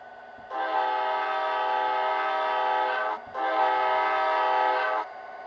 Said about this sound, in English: I love the Amtrak horn they have.